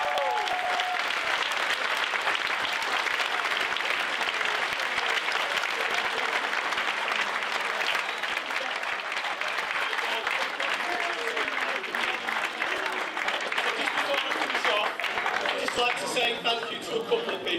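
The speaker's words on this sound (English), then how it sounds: "the greatest and loudest round of applause for all of our volunteers" A large audience at Bury AFC's end-of-season awards night gives club volunteers a long, loud, unbroken round of applause, dense clapping sustained throughout with some cheering mixed in.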